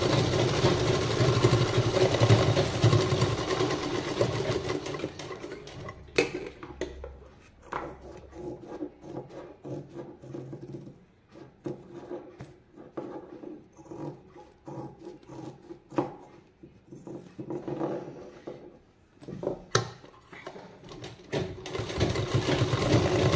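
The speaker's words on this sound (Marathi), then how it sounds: "पूर्ण पॅक करून घेते शिलाई मारून तिन्ही साईडून।" Sewing machine stitching fabric along three sides, a loud steady motor whir at first, then softer intermittent stitching runs with pauses and handling rubs, close by.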